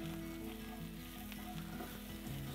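Chopped onions sauté in a hot pan for a keema burger, giving a continuous soft, even sizzle with faint stirring, fairly quiet and without talk.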